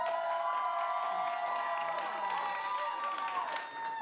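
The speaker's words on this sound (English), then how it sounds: "So if you'd like to see Haunting of Algae Manor, applaud now." An improv comedy audience applauds and cheers to vote for a show titled Haunting of Algae Manor, a crowd roar of clapping and whoops mixed with bright sustained tones, steady throughout.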